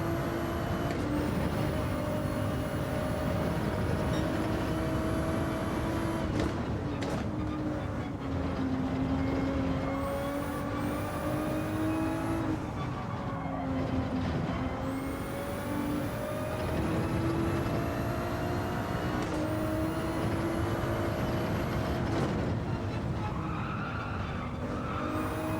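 A Ferrari 296 GT3 race car in Gran Turismo 7 roars loudly throughout, its engine note rising and falling with gear changes while the tyres squeal and skid through the corners, with no talking over it.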